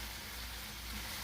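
Baking bacon sizzles in the oven with a faint, steady crackling hiss, quiet and unbroken through the brief moment, with no talking.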